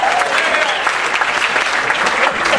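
Dense, steady applause from an audience at a workers' justice interfaith gathering in San Diego, loud and close for the whole stretch with faint voices mixed in.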